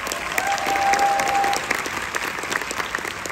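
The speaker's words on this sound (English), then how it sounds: "Also, a round of applause for our outstanding festival director" Festival audience applauding in a theater at a classic film festival screening event, a dense wash of clapping that swells early then thins into looser individual claps, with a brief steady tone sounding partway through.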